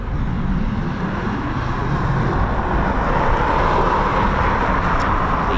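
Eurofighter Typhoon FGR4 jet at RAF Coningsby, a steady broadband engine roar held at a constant loud level throughout, with no talk.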